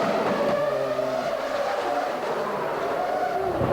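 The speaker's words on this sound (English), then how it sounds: "Mika Häkkinen's gone straight on, heading down the hill to Mirabeau, sliding on Tagagi's dropped oil" A 1999 Formula 1 car slides on dropped oil down the hill toward Mirabeau, its engine note whining and dropping in pitch against constant crowd and track noise, loud and continuous through the whole stretch.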